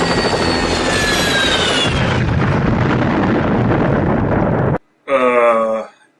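A helicopter in a film roars loudly and steadily as it lifts off and flies away, with an explosion-like burst of broadband noise, then a brief pause before a short harmonic sound at the end.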